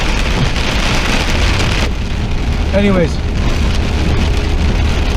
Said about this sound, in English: it's really fucking raining now